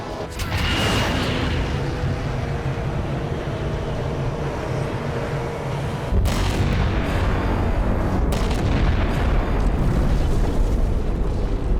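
A targeted strike in the video game Halo 4 detonates in a sustained loud roar of explosions and rumbling blasts, with sharp new impacts striking near the middle and toward the end.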